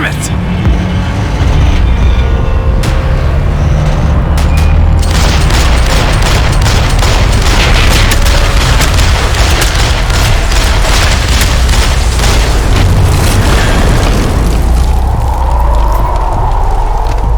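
Dense, sustained gunfire and booming explosions from a Max Payne 3 shootout, loud and continuous throughout, with shouted voices mixed into the chaos.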